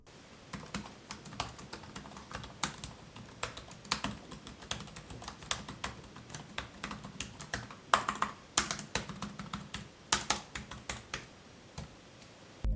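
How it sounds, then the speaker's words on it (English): Steady typing on an Asus Zenbook 14 laptop keyboard, quick irregular clicks and clacks close up, with a few louder keystrokes standing out from the run. "Here's a quick sound test of the keyboard."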